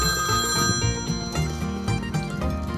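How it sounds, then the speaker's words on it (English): A telephone rings with a steady repeating bell pattern, close and fairly loud, over a soft background tone with no talking. "Oh, excuse me, I'm getting a phone call."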